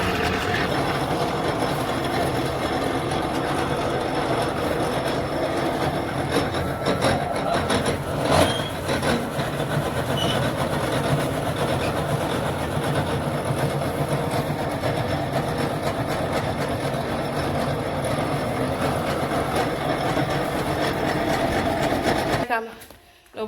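Electric water pump motor running on a village farm, its faulty switch bypassed so it is wired directly, gives a steady continuous mechanical hum and rattle throughout, with voices talking over it, cutting out abruptly at the very end.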